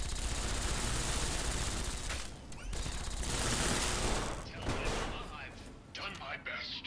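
Sustained gunfire in Fallout: New Vegas, a dense, loud wash of shots that briefly drops out and returns before tapering off, with a voice talking over it.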